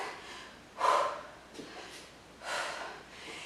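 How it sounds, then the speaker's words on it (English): Big breathy exhales during a Pilates exercise, two strong forceful breaths with softer ones between, close and clear without talk. "Big exhales."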